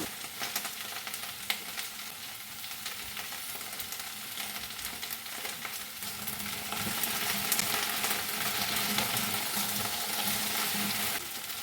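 Okra masala curry being stirred in a pan: a steady sizzle with scraping spoon sounds runs throughout and grows somewhat louder toward the end, with no talk.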